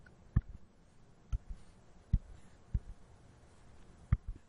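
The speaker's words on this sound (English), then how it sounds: "I'm going to type in my polynomial" Keys being tapped while a polynomial is entered into a graphing tool: five or six sparse, soft clicks at uneven intervals over a quiet background.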